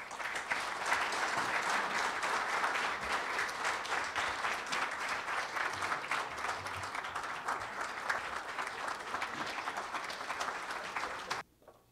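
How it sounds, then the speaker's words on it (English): Dense, steady applause from a lecture audience follows a High Commissioner's talk, filling nearly twelve seconds with loud, even clapping before cutting off abruptly. "Can we have another round of applause for this fantastic, inspiring?"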